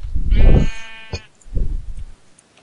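A cow in Minecraft lets out two drawn-out, reedy animal calls, the first longer and louder, the second shorter after a brief pause, with no talking.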